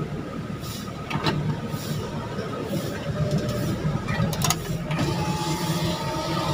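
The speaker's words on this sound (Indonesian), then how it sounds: "Oke, power window kanan, kiri," A power window motor in a 2001 Daihatsu Taruna whirs steadily with a mechanical grinding hum, punctuated by a few sharp clicks and clunks as the glass moves, heard close inside the car.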